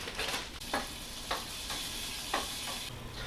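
Brewing grains are poured and stirred into hot mash water for a blood orange wheat beer, a soft watery swishing with several rhythmic scraping strokes, fairly quiet and close.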